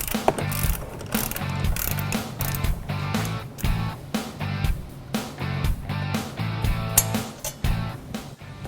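A hand ratchet clicks in rapid repeated bursts while loosening a brake caliper bracket bolt on a Ford Mustang GT's front brakes, close and clear with short pauses between strokes.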